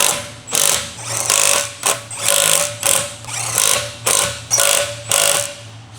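An electric impact wrench with a 19mm long socket snugs the rear wheel lug nuts on a 2011 Mazda 3, giving a series of loud, close hammering bursts in quick succession with short pauses between them.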